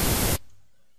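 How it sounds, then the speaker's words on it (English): Steady, bright broadband hiss of synthesized tape hiss, loud and even, cutting off abruptly after about a third of a second and leaving near silence. "Like how tapes used to have that hiss sound."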